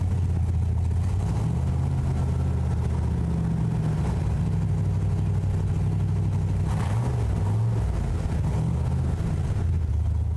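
A classic car engine at a South Florida auto show runs with a steady low rumble, rising and falling in a few revs over ten seconds, loud and close with no talk.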